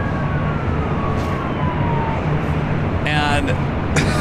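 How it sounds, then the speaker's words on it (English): Distant sirens wail steadily over a constant roar of traffic and aircraft engine noise at LAX airport, with a few brief tonal bursts toward the end. "I'm hearing a bunch of sirens"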